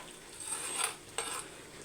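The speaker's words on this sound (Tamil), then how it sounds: "திட்டமாக இது போல் கலக்கி வச்சுக்கோங்க" Metal scraping and clinking against a pot of fish curry, two short bursts of stirring at close range with a faint sizzle underneath.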